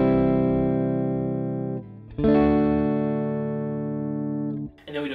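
Acoustic guitar strumming the pre-chorus chords of a song, with a steady strummed pattern, a brief pause near the middle, then full ringing chords again, close and clear with no talking.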